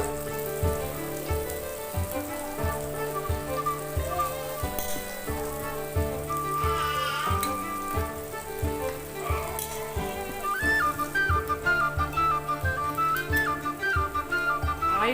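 Slices of raw plantain fry in oil in a pan with a steady hiss and sizzle under loud, rhythmic background music that plays throughout, with no talking.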